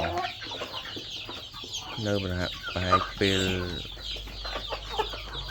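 Farm chickens being raised for sale cluck and squawk close by in short, repeated bursts, with someone talking briefly in between.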